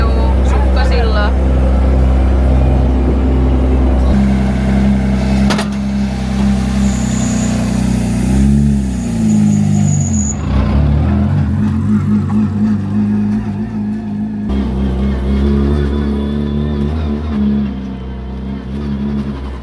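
A drift car's engine idles with a deep, steady drone and swells into a few revs, loud and close, while people talk over it throughout.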